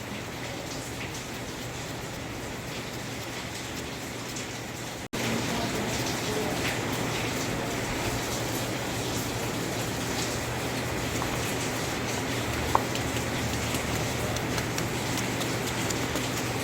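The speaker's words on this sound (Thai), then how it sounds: "ฝนตกพี่น้อง" Steady rain falls outdoors, a dense, even hiss that carries on throughout and grows slightly louder after a brief break near the middle.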